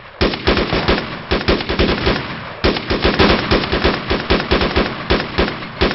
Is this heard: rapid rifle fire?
yes